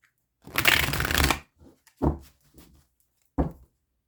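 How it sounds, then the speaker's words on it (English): A deck of tarot cards is riffled in one long close burst, followed by a few short soft slaps and rustles as single cards are drawn and laid down, in a quiet room. "I want to just pull one card for my Aries."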